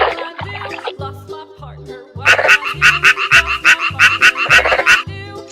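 Frog croaking in a rapid, rattling run of loud calls over a steady rhythmic music bed, after a quieter stretch of backing music at the start.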